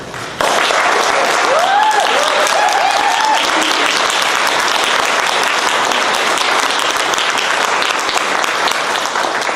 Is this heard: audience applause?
yes